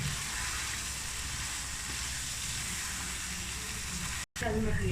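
Diced potatoes and cowpeas are stirred into a hot, sizzling masala in an aloo lobia curry, giving a steady, dense frying hiss with a brief drop-out near the end and faint voices in the background.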